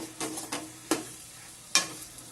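Chicken fries in a pan, a soft close sizzle broken by several sharp stirring scrapes, two of them louder and distinct, with no talking.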